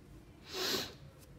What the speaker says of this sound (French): Pardon, je renifle.